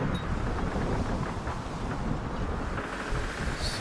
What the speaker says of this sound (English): it's a very, very strong wind